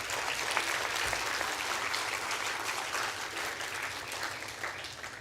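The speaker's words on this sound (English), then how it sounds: "They really deserve a big round of applause." An audience applauds steadily at the inaugural ceremony of the Vidyarthi Vigyan Manthan 2022-23 national camp, a dense, continuous wash of many hands clapping with no voices over it.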